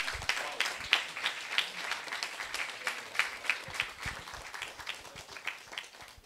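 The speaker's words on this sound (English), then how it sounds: "Ladies and gentlemen, a huge round of applause." An audience at the grand finale of a Bangalore hackathon applauds in a steady, dense round of clapping that holds for several seconds at moderate loudness, with a slightly distant, roomy feel.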